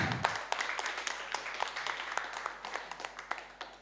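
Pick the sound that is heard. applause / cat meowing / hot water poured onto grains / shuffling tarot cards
applause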